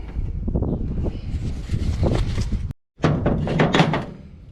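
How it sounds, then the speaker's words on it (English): Repeated heavy metallic thunks of pounding on a bearing stuck in a Polaris Sportsman 850/1000 rear differential, close and loud blows in a rough rhythm with a brief pause midway. "using brute force and swear words, just pounding on it, and slowly but surely it's coming out"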